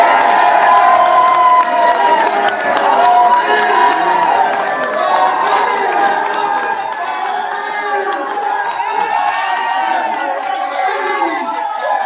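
Crowd cheering and applauding as a 4-star athlete commits to Notre Dame at a signing event; loud, sustained roar with whoops and shouting voices, some youthful, carrying on continuously at close range.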